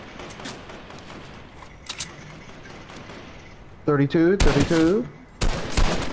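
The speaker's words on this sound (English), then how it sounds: "There's his teammate back there, shooting." Gunfire in the Fortnite video game, with sporadic shots and then loud rapid bursts near the end, mixed with a player talking excitedly over the game sounds.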